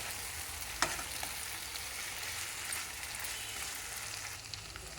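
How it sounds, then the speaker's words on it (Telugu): Raw banana pieces frying in a pan for a Telugu curry, a steady dense sizzle with faint stirring clicks throughout, close and continuous with no talk. "కొంతసేపు వేయించాలి."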